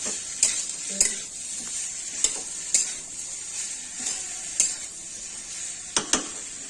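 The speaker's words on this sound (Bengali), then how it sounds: "দেখুন এইভাবে সুন্দর করে নাড়াচাড়া করতে হবে যেন মশলাটা ভালো মতো সবজির মধ্যে ঢুকে যায়" A spatula scrapes and stirs cauliflower and soybean curry with spices in a hot pan. Soft sizzling runs underneath, and sharp strokes land roughly every half second in a steady rhythm.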